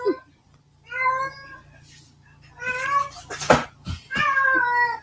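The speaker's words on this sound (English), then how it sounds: "I have to kick out a cat." A house cat meows repeatedly at close range, several drawn-out cries spread through the stretch, with a person talking in between and over some of them.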